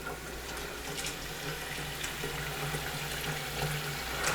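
Tap water runs steadily into a cooking pot at a home stove, a continuous broadband rush with faint clinks, holding even throughout with no talking.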